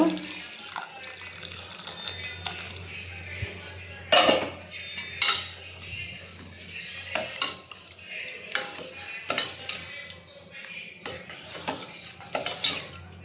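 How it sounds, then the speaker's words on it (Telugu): Milk pours into a pot amid clinking of metal utensils and pans, with a few sharp clanks and a voice speaking now and then. "ఇప్పుడు దీనిలో పాలు పోసుకోవడమే ఇవి నిన్నటివి అనమాట నిన్నటివి పోస్తున్నాను"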